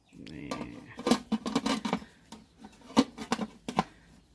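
A lid clatters onto a metal pot of pork leg set to steam over a hot charcoal stove outdoors, with several sharp metallic clinks and knocks close by and some rustling between them.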